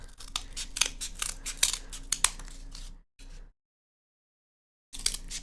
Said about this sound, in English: you literally just need scissors and a piece of cardboard